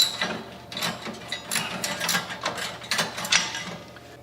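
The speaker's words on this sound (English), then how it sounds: "And tighten them with a flange lock nut underneath." Flange lock nuts on carriage bolts are ratcheted tight beneath a Cub Cadet PRO Z mower deck, a rapid clicking with repeated bursts of metallic ratchet sound, close up, with no talk.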